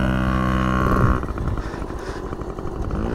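A 1970 Honda CT70 Trail 70 small trail motorcycle rides off-road, its engine buzzing high and steady, then dropping into a rougher, lower, uneven putter as the throttle eases.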